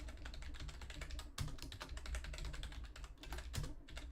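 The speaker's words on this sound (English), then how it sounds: "I've been typing in Mike's chat thinking" Steady, fast typing on a computer keyboard, a continuous patter of close, quiet key clicks with a couple of heavier taps, and no voices.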